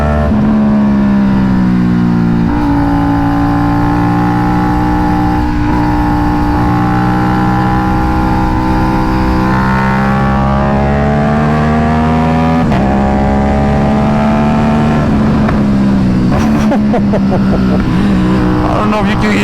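A KTM RC 457 motorcycle with an SC Project S1 exhaust and tuned map revs loudly and close for a long stretch, pitch rising and falling, with a burst of sharp popping backfire crackles late on.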